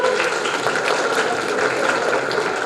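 An audience applauds steadily, welcoming a boy's grandfather onto the stage at a school final event, with dense clapping throughout and no voices heard.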